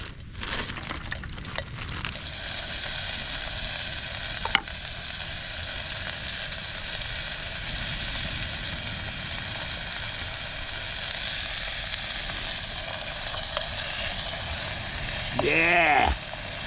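Vegetables frying in oil in a pan at an outdoor beach sleep-out at night, giving a steady, close sizzle throughout with a brief higher squeal near the end.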